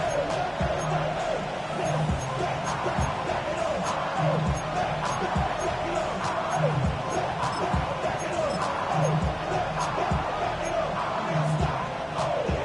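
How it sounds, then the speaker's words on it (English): A football stadium crowd roars steadily through a third-down play as the Saints face a defense, with a continuous dense wash of cheering and a commentator talking over it. "This crowd into it now as we get to third down."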